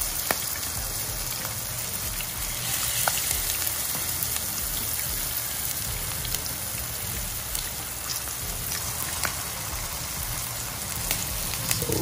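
Veggie okoy fritters of banana blossom fry in hot oil, a dense, steady sizzle and crackle with frequent small pops, close and continuous throughout with no talking.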